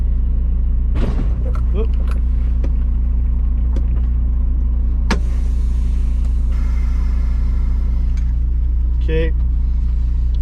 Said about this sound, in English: we are backed up to the dock. Both our brakes are set.